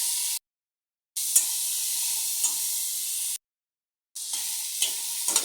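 Spices stirred into a pan of frying chapila fish and eggplant: a strong, steady sizzle broken by two short silences, with occasional scraping clicks of a spoon.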